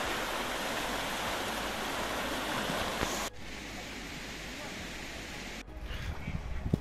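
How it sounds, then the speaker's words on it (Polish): A fast-flowing river near Lake Ostrzyckie rushes in a steady broadband roar, loud at first, then dropping to a softer wash after abrupt cuts, with a few faint knocks near the end. "tutaj miejscami jest dość rwąca ta rzeka."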